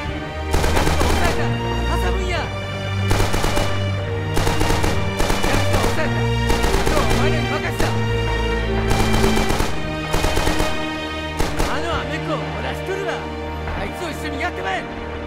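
Rapid bursts of light machine gun and rifle fire in Rising Storm Iwo Jima crack loudly in repeated volleys with short pauses, close and dense, under a steady low music-like drone.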